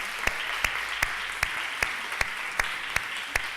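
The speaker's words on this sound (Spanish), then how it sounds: "Le damos un aplauso grande a nuestro hermano." Applause during a Spanish-language church service rings out as sharp, evenly spaced claps, about nine in a steady slow rhythm, over a quiet room hum.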